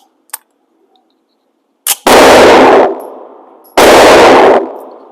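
Two loud, sharp pistol shots from a Staccato C2 or MPA DS9 fired at 7 yards, each a hard crack with a ringing tail, preceded by small handling clicks in a quiet range.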